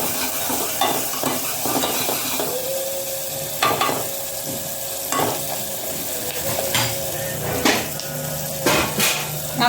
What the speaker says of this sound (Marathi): तर बघा तुम्ही हा कांदा अर्धा तास तळू दिलेला आहे